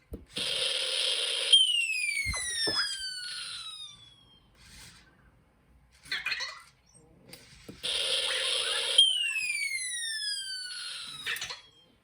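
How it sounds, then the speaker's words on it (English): A synthesized electronic explosion burst from a late-1970s SN76488N sound effects chip is followed by a long descending bomb-drop whistle, the pattern repeating twice with short chirpy tones between, clear and fairly loud. "the explosion sound is occurring before the what's called the bomb drop, the whistling"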